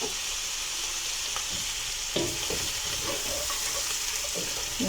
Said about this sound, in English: so on a very low heat, add in my potatoes